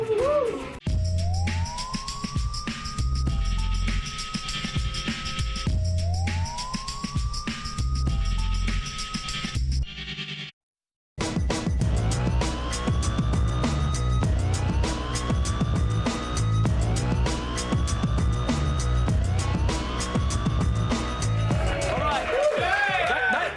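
A police siren wails with rising sweeps that repeat at a steady pace over loud, dramatic trailer music for The Eagle, broken by a brief moment of silence midway.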